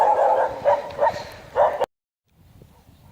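Two Kangal shepherd dogs bark and yip in several loud, close bursts, one on top of another, then stop suddenly, leaving near silence with faint low rumble.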